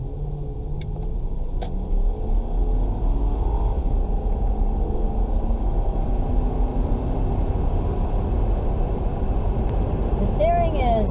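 A 2004 Toyota Tundra Limited pickup with a V8 accelerates, heard from inside the cab as a steady, loud low engine rumble and road drone that holds evenly for about eleven seconds.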